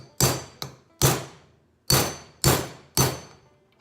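Sharp hammer blows drive a shift-kit part into a 46RE/47RE transmission valve body, six metallic strikes in an uneven rhythm, close and loud, with no talking.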